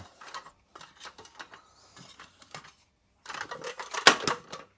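A folding camping table's legs being unfolded and clicking into place, a series of sharp plastic and metal clicks and ratchety snaps in short bursts, close and clear with quiet gaps between, ending in a louder cluster of clacks.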